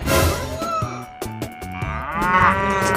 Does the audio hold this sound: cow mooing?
yes